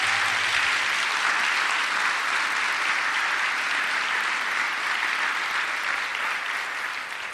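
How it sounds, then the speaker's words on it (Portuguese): An audience at a Marian religious gathering applauds steadily, a thick, even wash of many hands clapping that holds for several seconds before starting to taper off at the end. "Então aplauda a Nossa Senhora aí"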